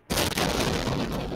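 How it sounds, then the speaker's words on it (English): Continuous loud burst of explosions from the video game Happy Wheels, a dense rumbling barrage that starts abruptly and keeps going without pause. "there's just random explosions going off around me"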